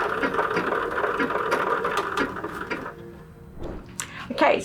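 A sewing machine stitches around a satchel, a steady close mechanical whir with rhythmic needle ticks for about three seconds before stopping, followed by fabric handling.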